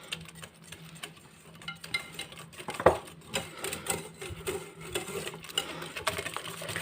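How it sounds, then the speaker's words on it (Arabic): Eggs and sugar are stirred together by hand in a bowl for pancake batter, giving faint, irregular scraping and soft clinking taps at close range, with one sharper knock partway through. "هعمل ميكس كامل كده، هفضل ادوب فيهم"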